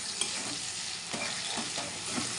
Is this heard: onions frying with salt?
yes